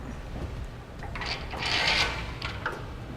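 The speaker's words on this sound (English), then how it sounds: "we'll loosen those up and slide them all the way out" Load stops on a Thule TracRac SR sliding truck bed ladder rack are loosened and slid along the rail, giving close mechanical clicks and a scraping metallic rub that swells in the middle, with no talking.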